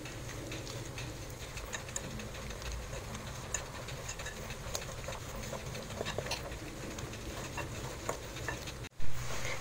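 Flour is stirred in a pan, giving a quiet, rhythmic scraping with faint ticking strokes and a low sizzle underneath. A brief thump sounds near the end. No one speaks.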